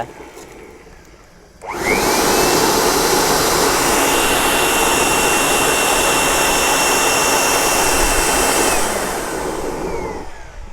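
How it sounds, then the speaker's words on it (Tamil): A homemade waste oil cooking stove bursts alight and settles into a loud, steady close roar that fills the space, then eases off slightly at the end. "கப கப கபன்னு எரிய ஆரம்பிச்சிருச்சு"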